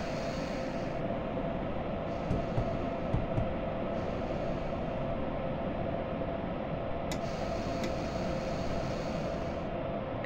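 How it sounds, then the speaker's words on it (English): Freight train double-headed by DB BR 189 locomotives rolling into a siding, a constant broad rumbling roar with faint clicks from the wheels over rail joints. "I'll wait until my entire train's in the siding and then I stop."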